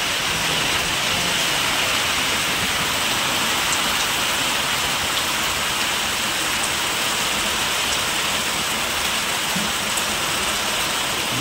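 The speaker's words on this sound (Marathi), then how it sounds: "आता जास्त पाऊस वाढलाय बघा" Heavy rain pours steadily and loudly, a dense unbroken hiss of drops hitting surfaces, with no voices.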